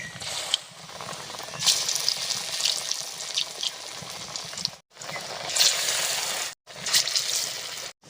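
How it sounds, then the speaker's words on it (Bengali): Taro koftas frying in hot oil in a pan, a continuous bubbling sizzle with crackling bursts, broken by a couple of brief silent gaps. "সুন্দর করে আস্তে আস্তে ভেজে নেব।"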